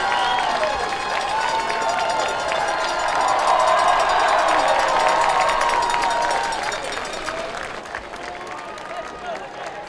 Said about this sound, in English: Actually hearing some real cheering tonight.